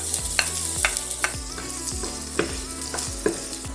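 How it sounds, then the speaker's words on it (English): Oil sizzles and crackles steadily in a frying pan while onions are stirred, with a few sharper pops and scrapes; no talking. "I put oil here in the frying pan and we will start with onions."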